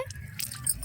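Water is sprinkled onto the soil of a potted plant, a brief soft patter and dripping splash lasting under a second, close and fairly quiet.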